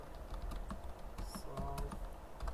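Computer keyboard typing while working on a Node server, quick close clicks in uneven bursts over a low background hum, a voice speaking faintly beneath.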